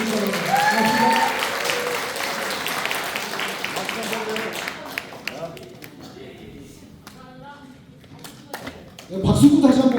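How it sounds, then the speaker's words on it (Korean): An audience at a Democratic Party members' rally in Cheongju claps, the applause loud at first and then thinning into scattered claps while a voice speaks over the start and a louder voice cuts in near the end. "꽃다발 대신에 힘찬 박수로 축하를 해주시기 바랍니다"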